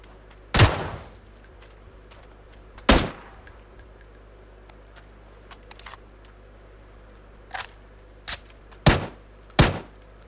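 M4 rifle fire in the battle royale game PUBG: several sharp, separate gunshots spaced irregularly, two loud single reports early, then a quieter cluster of shots near the end, with no talk.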